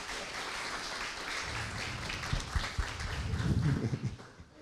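A church congregation applauds Pastor Nenê during a Sunday service, a steady wash of clapping from many hands that swells toward the end, with a few sharper claps standing out.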